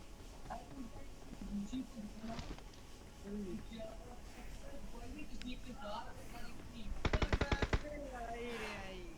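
A Vector submachine gun fires in PUBG during Livik map gameplay. Someone talks throughout, and a rapid burst of about eight shots cuts in near the end.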